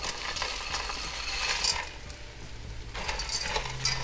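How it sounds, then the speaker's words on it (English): Bread cubes tumble into a pan of stuffing seasoned with parsley, sage, rosemary and thyme, followed by steady scraping and stirring. Soft rustling, occasional utensil clinks and a faint sizzle run close and moderately loud, with no talking. "now I'm going to add my bread cubes"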